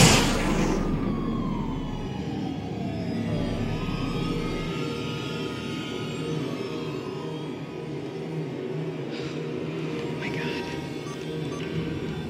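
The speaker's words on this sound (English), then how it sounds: "The sirens. Someone could need you." Emergency vehicle sirens wail in the distance as a steady, rising and falling tone that carries through the whole scene, partly under dialogue and background ambience.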